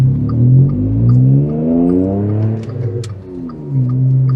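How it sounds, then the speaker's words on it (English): A Seat Mii's engine and exhaust drone loud and close during a road test, a steady low harmonic note rising and falling in pitch as the small car accelerates and shifts, with a brief dip near the middle. "but the exhaust certainly brings a little hilarity with it."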